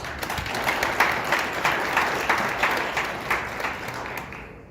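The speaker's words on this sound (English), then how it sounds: "we give them a round of applause" An audience at a morning gathering bursts into sustained applause, dense clapping swelling in gentle waves before tapering off near the end.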